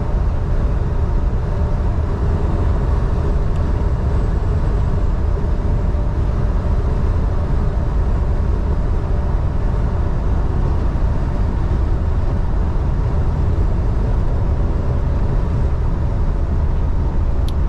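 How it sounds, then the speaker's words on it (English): Heavy truck in tenth gear at about 70 mph on a long downhill grade with its engine brake engaged, giving a steady, loud low rumble with road and wind noise throughout. "Alright, my engine brake is on."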